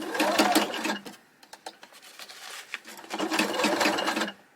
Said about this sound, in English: And now I'm just sewing back up my pocket.